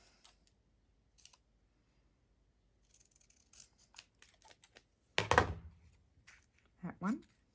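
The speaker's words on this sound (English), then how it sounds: "Let's cut them on here." Scissors cut out paper labels near the microphone, a few soft snips building to a couple of louder crisp cuts, with speech alongside.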